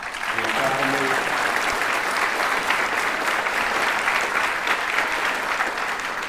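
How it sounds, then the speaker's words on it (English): Sustained audience applause at a Craft Academy graduation ceremony, a thick wash of clapping from a large crowd filling the room, with a brief voice audible at the very start. "Would you give that size and scope a round of applause?"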